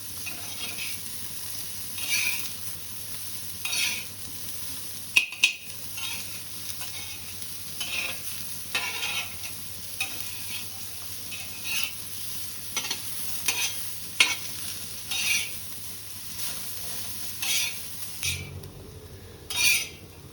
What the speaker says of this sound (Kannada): ಫ್ರೈ ಭಾಳ ತನಕ ಮಾಡ್ಬೇಕು ನೀವು.